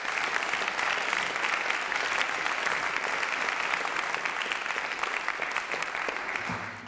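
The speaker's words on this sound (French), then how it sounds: "Vous pouvez l'applaudir aussi." Audience applause for prize winner Julien Ablin at a prize ceremony at the Collège de France honoring young researchers, with steady dense clapping from a large room filling the whole clip and tapering slightly at the end.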